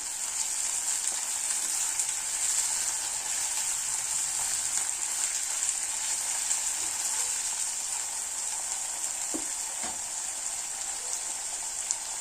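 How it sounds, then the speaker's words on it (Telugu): Curry leaves and coriander fry in a pan, making an even, continuous sizzle with a crackly, rain-like texture that holds steady for the whole stretch. A couple of faint knocks come near the end, and no one speaks. "రెండు రెమ్మలు కరివేపాకు, కొద్దిగా కొత్తిమీర ఇవి లైట్గా ఒక నిమిషం ఫ్రై అవనివ్వాలి"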